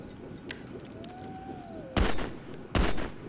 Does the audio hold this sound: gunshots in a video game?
yes